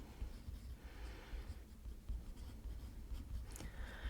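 Pen writing the word brainstorm by hand in a planner during quarterly goal planning, a steady close scratching of strokes across paper lasting several seconds, with no talk.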